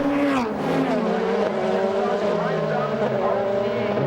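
DTM touring cars from 2000, including Mercedes and Opel machines, race at the Norisring street circuit into a hairpin, their engines droning loudly and shifting in pitch. A commentator talks over the engine noise.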